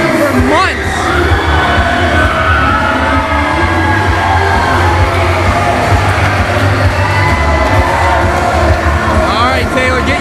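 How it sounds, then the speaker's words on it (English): A roaring arena crowd cheers steadily at a professional wrestling steel cage match, dense and continuous for the full stretch, with an announcer's voice running over the noise. "this crowd is going nuts here tonight"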